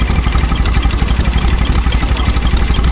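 A stationary engine runs steadily at a rural pastimes show in Sussex, a loud, even low chug with a rapid regular beat and metallic clatter, continuous throughout with no talk.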